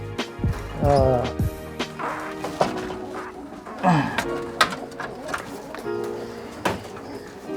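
Soft, low pigeon coos come and go, mixed with clattering knocks and bumps nearby, with a few brighter bird calls scattered throughout.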